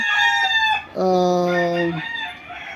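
Two roosters at a small gamecock farm crow in quick succession, one high-pitched call followed by a stronger, longer cock-a-doodle-doo, close and loud against a quiet rural background.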